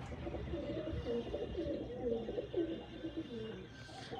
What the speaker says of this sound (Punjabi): ਕਬੂਤਰ ਤੁਹਾਡੇ ਸਾਹਮਣੇ ਹੀ ਆਉਂਦੇ ਆ ਭਰਾਵਾ